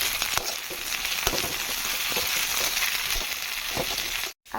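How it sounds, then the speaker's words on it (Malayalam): Batches of potatoes hiss and crackle steadily in hot oil, the bright continuous sizzle broken by occasional stirring clinks before a brief drop to near silence at the end. "അപ്പോൾ നമുക്കിതൊന്ന് ഫ്രൈ ചെയ്തെടുക്കാം."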